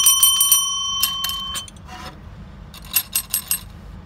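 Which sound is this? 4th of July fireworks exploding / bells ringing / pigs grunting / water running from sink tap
bells ringing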